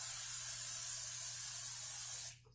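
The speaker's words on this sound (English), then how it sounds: "I'm going to use my olive oil spray" A steady close hiss of olive oil spray over chopped potatoes in a home kitchen, one continuous burst lasting a couple of seconds before cutting off abruptly.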